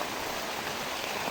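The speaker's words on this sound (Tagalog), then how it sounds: "Biglang bumuhos ng malakas na ulan." Heavy rain pours down steadily in Barangay Katuogan, Bontoc, Southern Leyte, a dense, unbroken hiss that stays loud and even throughout, with no voices heard.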